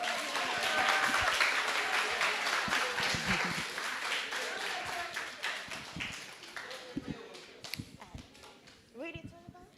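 An audience at a Spanish-language presentation claps and cheers, with scattered claps and shouts over talking, growing sparser and more irregular toward the end.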